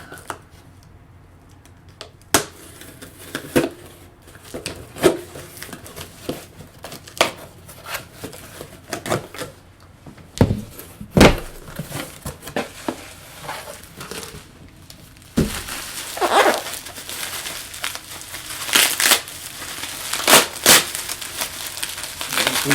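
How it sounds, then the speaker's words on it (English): Packing tape on a parcel is sliced and bubble wrap pulled out, making a close run of irregular cuts, crinkles and rustling that turn busier and louder toward the end, with no voices. "So let's cut through the tape."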